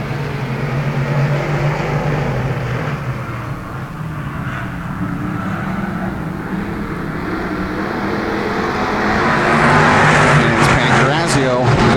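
Dirt track race cars at the Genesee Sportsman take off at the green flag, with engines roaring and building louder toward the end while an announcer talks over them.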